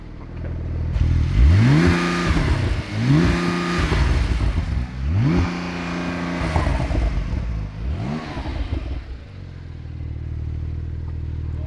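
Porsche 911 Turbo S of the 992 generation accelerating hard, its engine revving loudly up through several gears in close, rising sweeps with brief dips at each shift, then settling into a steadier drone.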